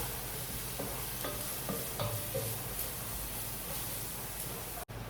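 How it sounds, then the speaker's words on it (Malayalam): Crushed ginger and garlic frying and being stirred in a pan for a chicken broccoli coconut milk curry, a constant loud sizzle with a few scraping strokes of the spoon, close up, no talking. "നമുക്കതിലേക്ക് ഇഞ്ചിയും വെളുത്തുള്ളിയും കൂടെ ചതച്ചിട്ടിടാം"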